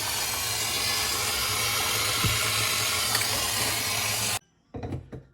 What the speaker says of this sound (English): Now I'll pop this into the hot water and let the flux come off.